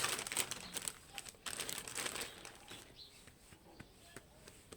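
A small plastic bag holding damp lemon seeds is opened up close, giving bursts of sharp crinkling and rustling that thin out into quieter, scattered crackles.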